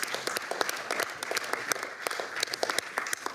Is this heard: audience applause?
yes